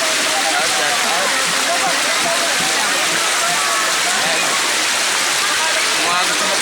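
Loud rushing river water flows continuously at Canal Lopez, close by, a dense steady roar filling the whole clip.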